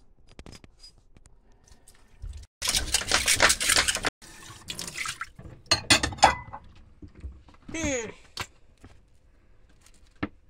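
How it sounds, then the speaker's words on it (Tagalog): Plates being washed at a campsite in Long Point Provincial Park: running water gushes in a few bursts, with splashing, dripping and clinking dishes between them, close by with no talking. "Tara, magugas na tayo ng plato"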